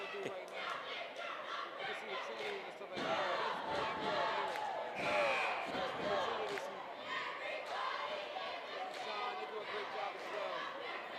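Crowd of fans at a York High vs Central York high school basketball game, a steady roar of cheering and chatter filling a packed gym, swelling louder at moments.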